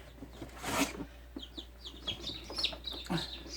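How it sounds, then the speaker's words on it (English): Newly hatched Jersey Giant baby chicks peep in a series of short, bright chirps up close, with faint rustling in the incubator underneath and a brief louder shuffle early on. "Oh, baby chick."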